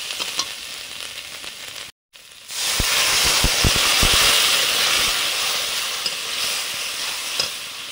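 Spices and spice water hit a hot frying pan while cooking greens with small crabs, bursting into a loud, steady sizzle with hissing steam after a brief gap, scattered stirring clicks underneath, no talking.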